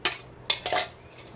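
A spoon clinks and scrapes against a bowl while mixing green spinach dosa batter, three short sharp strokes close by and then a quiet pause.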